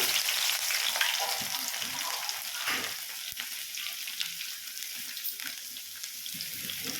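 Chana dal, dried red chilies and coarsely crushed garlic fry in hot oil as a tempering, giving a soft, continuous sizzle with scattered crackles and occasional stirring scrapes.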